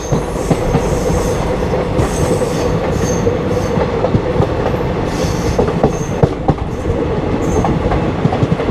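The Shramjeevi Express runs at speed over the rails with a loud, continuous rumble, rhythmic clickety-clack from the wheels and occasional high squeals, heard from on board and close.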